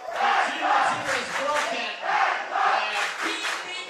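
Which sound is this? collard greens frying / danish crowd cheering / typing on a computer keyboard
danish crowd cheering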